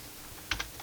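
A few quick, light keystrokes on a computer keyboard click close by in a quiet room, with a small cluster of taps followed by one more.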